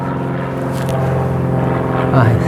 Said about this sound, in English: Sorry about the plane.